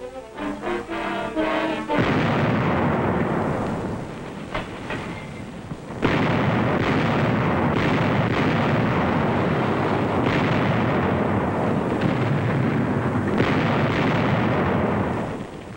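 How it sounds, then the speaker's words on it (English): WWII artillery barrage fired at close range on the Marshall Islands at Kwajalein, a loud continuous roar of firing and blasts that starts after a brief lead-in and holds steady to the end. "We landed artillery on the two small islands on either side and blasted at close range."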